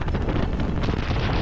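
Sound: strong wind in a blizzard in Iceland

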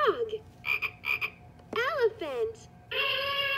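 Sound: frog croaking from a baby piano gym toy

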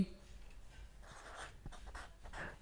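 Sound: pen writing on paper

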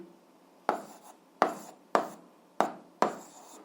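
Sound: writing by hand while solving an algebra equation

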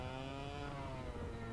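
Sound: engine of an X30 vehicle

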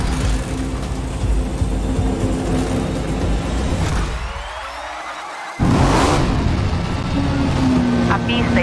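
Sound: race car engine revving in Forza Motorsport video game

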